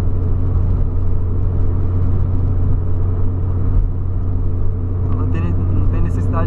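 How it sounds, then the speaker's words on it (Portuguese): A 2008 Volkswagen Polo sedan driving at night, its engine giving a loud, steady low rumble from inside the car with a faint whine near the end. "Olha o barulhão do Polo chamando, ó."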